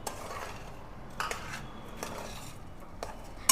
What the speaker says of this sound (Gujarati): હવે આમાં ડ્રાય રોસ્ટ કરેલા બાજરીના મમરા છે એ આપણે એડ કરશું, અને આને હલાવી લેશું.